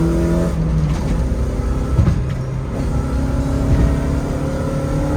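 A Toyota AE86 Levin drives on a street, its engine droning steadily from inside the car with gear changes and slight rises in revs under road noise.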